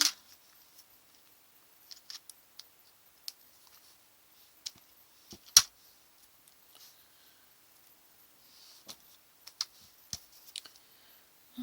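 Square wire being trimmed for jewelry work: faint, sparse sharp clicks and snips scattered over a near-silent background, quiet and close, with no talk.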